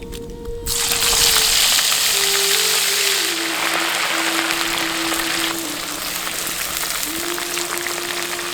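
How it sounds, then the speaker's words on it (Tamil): Masala-marinated country crab deep-fries in hot oil, giving a loud, dense sizzling crackle that eases slightly partway through, with a faint steady tone underneath and no talking. "எண்ணெய் நல்லா காஞ்சதும் நம்ம மசாலாவோட கலக்கி வச்சிருந்த நண்டை இப்போ பொரிக்க"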